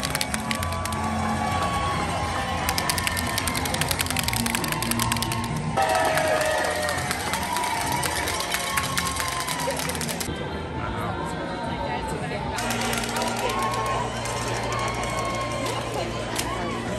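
Spectators lining Main Street at the Walt Disney World Half Marathon, a busy crowd murmur with scattered cheers and clapping, steady and fairly loud throughout, with voices talking nearby.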